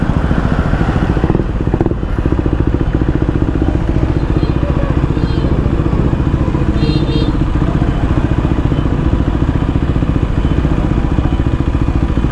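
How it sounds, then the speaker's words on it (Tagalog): A single-cylinder KTM 390 motorcycle engine runs steadily nearby with a throbbing, loud drone, the rhythmic pulse of the single cylinder continuing throughout. "Yung KTM na motor o."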